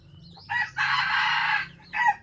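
A red junglefowl (labuyo) rooster, caught from the wild, crows one long, loud call up close, framed by a short clucking note before and a brief call after, over a quiet rural background.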